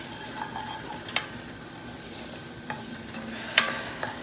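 Seasoned chicken mixture, flavoured with a seasoning salt, is stirred in a frying pan over a low steady sizzle, with a few distinct scrapes and clinks of the utensil against the pan and no voices.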